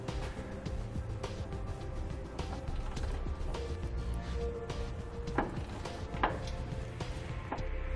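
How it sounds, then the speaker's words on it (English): A hand ratchet with a short 21mm socket turns trailer hitch frame bolts on a 2018 Chevrolet Colorado, giving soft repeated clicking and creaking amid low background noise, with a few sharper ticks. "you may have to use a hand ratchet and a short socket"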